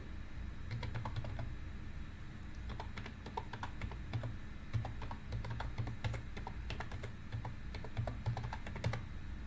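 Hashtags being typed on a computer keyboard: fast, continuous clacking keystrokes in uneven bursts, close and clear for several seconds with no talking.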